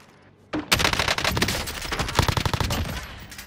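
Automatic gunfire in the Warzone video game, a sudden loud burst of rapid shots that keeps rattling, close and sustained, with no talking.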